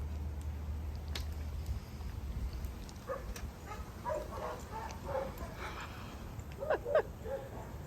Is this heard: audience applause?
no